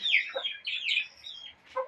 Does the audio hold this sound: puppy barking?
no